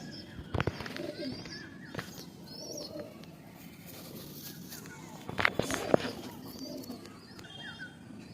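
Pigeons coo softly in a loft nearby with a few wing flutters and scattered clatters, a low voice murmuring faintly in the background.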